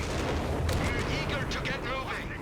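Artillery shells landing in a Company of Heroes 3 2v2 match, a steady barrage of dull booms and crackling blasts mixed with battle noise, with a voice talking over it throughout.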